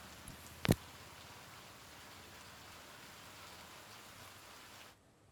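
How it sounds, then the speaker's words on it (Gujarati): Heavy rain pours down in Chalamali, Chhota Udepur district, a dense, steady hiss with one sharp knock near the start, cutting to silence at the end. "ચલામલીમાં ધોધમાર વરસાદ જોવા મળ્યો હતો"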